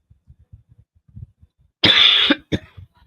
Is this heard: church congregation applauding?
no